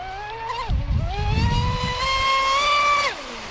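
A Proboat Impulse 32 RC boat runs on the water, its electric motor whining in a rising tone that climbs as it speeds up, holds steady, then drops away, with splashy water noise early on.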